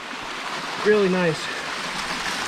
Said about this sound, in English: lots of water flowing in this one